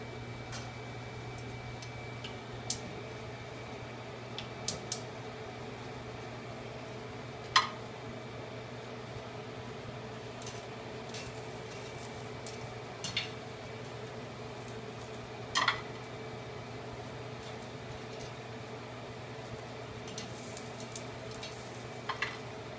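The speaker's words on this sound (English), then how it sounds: "Now I'm going to cook my asparagus." Asparagus cooks in a home kitchen pan with a low, steady sizzle. A few sharp clicks and taps stand out above it now and then. No one speaks.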